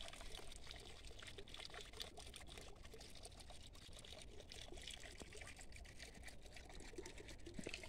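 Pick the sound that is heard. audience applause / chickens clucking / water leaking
water leaking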